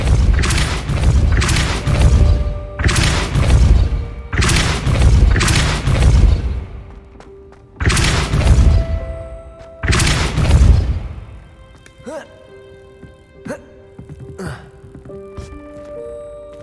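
Depulso spell impacts in Hogwarts Legacy land as a rapid series of heavy, booming thuds, loud and close, several in quick succession before giving way to lighter clicks and chimes.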